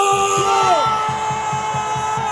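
People in their thirties in a dense rally crowd at Dongdaegu Station's Park Chung-hee Plaza raise a steady, full cheer. A shouting voice briefly rides over the roar, and even rhythmic thumps keep time below.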